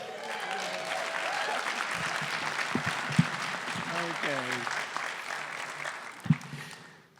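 An audience at a West Texas Walk of Fame awards ceremony applauds loudly and steadily, a dense wash of clapping that fades out near the end, with someone speaking over it.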